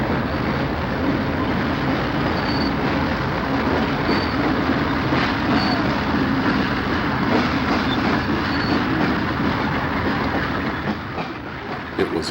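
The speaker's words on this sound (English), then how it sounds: "6520 on the point is a General Electric 1966-built ex-Pennsylvania Railroad U-28C" A 1966-built General Electric U-28C diesel locomotive, ex-Pennsylvania Railroad, hauls a Conrail train past at close range, its steady engine roar and rolling wheel noise filling the scene at constant volume with faint periodic clicks.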